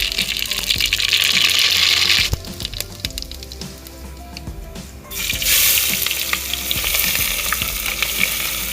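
Onion crackles and sizzles loudly in a pan over a village kitchen fire, with clear stirring scrapes. Halfway through, the sizzle drops for a few seconds, then surges back strong.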